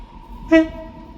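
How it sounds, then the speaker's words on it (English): An Avanti West Coast Pendolino electric train from London Euston terminating at Manchester Piccadilly, sounding one short, clear horn toot over a low background rumble of the station. "here we have a terminating Avanti Westcoast service from London Euston"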